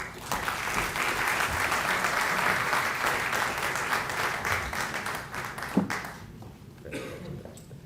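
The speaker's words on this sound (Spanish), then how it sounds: "Recibámoslo con un caluroso aplauso." An audience at a university ceremony honouring democratic values gives warm, dense applause for an arriving guest speaker. The clapping is steady and loud for about six seconds, then thins out and fades, with a few scattered claps at the end.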